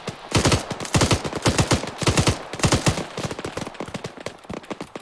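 Suppressing automatic gunfire on a compound in the game Arma 3, rapid loud bursts of shots in quick succession, several weapons overlapping and stuttering on and off.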